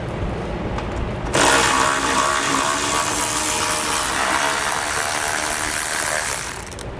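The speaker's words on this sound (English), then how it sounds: "we're going to take a 15mm socket and we're going to remove this bolt on each side" A 15mm socket tool loosens a bolt on a 2016 vehicle during a tow base plate installation, a loud, close, continuous mechanical whirring that starts about a second in and runs steadily to the end without talk.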